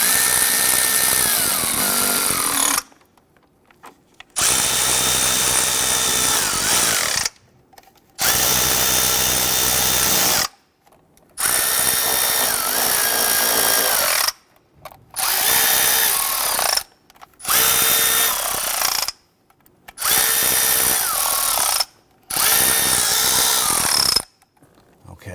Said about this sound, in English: we're just going to gently snug them down. We just want to seat them.